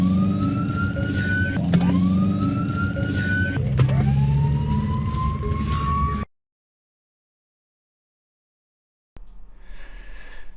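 A police car siren from police footage wails in repeated rising sweeps with engine and road noise beneath, then cuts to silence before faint noise resumes.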